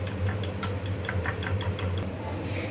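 Green chili sauce being mixed with a spoon in a bowl for shawarma sauce, giving a steady series of light, regular clinks and ticks against the bowl over a low background hum.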